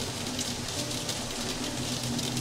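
Loud rain in the video game Until Then, a dense continuous hiss of falling water filling the whole clip at steady strength with no talk over it.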